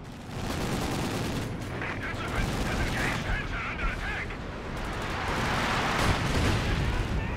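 Gunfire from machine guns and artillery in the World War II strategy game Company of Heroes 2 makes a steady, dense wash of battle noise, with rattling bursts in the middle and no clear pauses.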